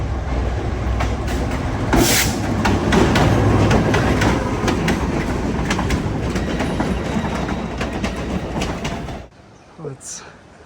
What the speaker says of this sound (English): And there's the train coming.